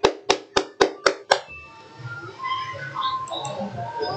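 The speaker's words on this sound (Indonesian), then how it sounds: "Tepuk tangan." Six sharp, evenly spaced hand claps close by in a classroom lesson, followed by faint background murmur and quiet room noise.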